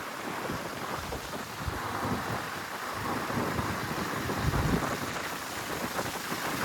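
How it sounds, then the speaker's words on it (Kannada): Strong wind on a slow motorbike ride during the monsoon in Ankola buffets the microphone. It makes a constant heavy low roar with hissing gusts that swell slightly toward the end, and no one speaks. "ಬಟ್ ಗಾಳಿ ಫುಲ್ ಜೋರಿದೆ."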